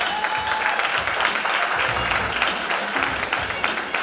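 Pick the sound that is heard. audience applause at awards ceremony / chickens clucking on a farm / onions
audience applause at awards ceremony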